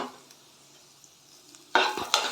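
Vegetables for vermicelli upma fry quietly in a pan at first, then a spatula scrapes and stirs them in two louder bursts near the end, close by, no talking.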